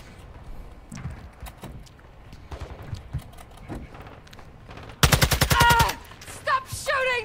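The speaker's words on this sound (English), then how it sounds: "Stop shooting me!" Gunfire in the shooter game Call of Duty DMZ: faint scattered shots under quiet game noise, then a loud rapid automatic burst near five seconds, followed by a few more sharp shots.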